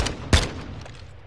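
Gunfire from a video game kill cam: one sharp, loud shot lands near the start over a busy, rumbling game background with some faint later pops.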